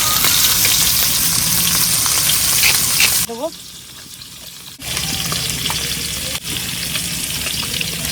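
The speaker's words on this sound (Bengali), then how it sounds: "তেল দিয়ে দিচ্ছি মাছটা আবার বেগুন দিয়ে রান্না করবো ওই জন্য হালকা একটু ভেজে নেবো" Hilsa fish sizzles loudly in hot mustard oil in a close-up pan fry. The frying cuts out briefly about midway and then resumes at full strength, a steady crackle that fills the clip.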